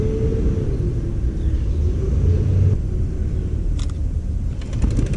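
Helicopters over Washington D.C. produce a steady, loud low rumble that persists throughout, with a few brief higher clicks near the end.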